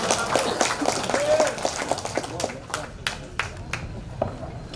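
An outdoor political rally crowd in Tasikmalaya claps for an orator, scattered applause mixed with crowd noise and voices, fairly loud and close.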